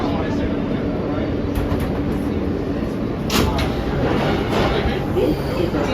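NYC subway R160 E express train running toward Jamaica-179 St, a loud steady interior rumble and rattle of wheels on track, with faint voices in the background.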